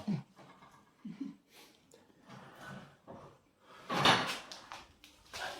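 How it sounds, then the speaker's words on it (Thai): A door creaks and clatters open nearby, with soft shuffling and faint breathing around it and a louder rattling burst toward the end. "เราเปิดประตูนะครับ"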